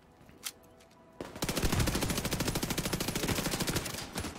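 Gunfire from a firefight in the video game The Division 2, pistol fire per the description, bursting in after a quiet second as a long run of rapid, evenly spaced loud shots lasting about three seconds.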